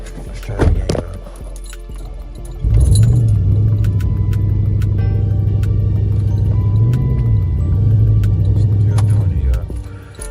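Car keys jangle briefly near a Dodge Charger SRT8 with a 6.1L Hemi, followed by a steady engine idle humming on.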